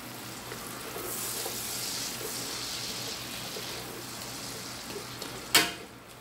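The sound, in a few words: onions sautéing in a pan, mixed with tongs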